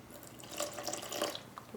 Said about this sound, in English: and keep on adding more water